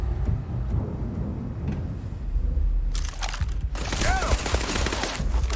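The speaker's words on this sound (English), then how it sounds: "That's a grenade." A grenade blast and bursts of gunfire ring out during combat in the video game Starfield, with loud crackling explosions and rapid shots coming in clusters near the end after a rumbling lead-in.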